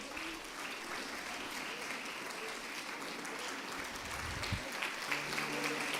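Applause from a church congregation as worshippers sit down, a dense steady patter that stays fairly even throughout, with faint voices underneath.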